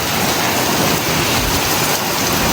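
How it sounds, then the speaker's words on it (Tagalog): Heavy rain pours down steadily in a summer downpour, a dense, loud, even hiss of drops drumming on surfaces with no break, close and constant throughout. "Ang lakas ng ulan."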